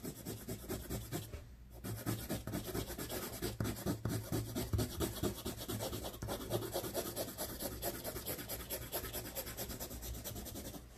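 Graphite pencil shading on paper, laid down in left-to-right strokes with the pencil lifted between passes: a steady, close scratchy rasp with a quick repeating rhythm and a brief pause near the start.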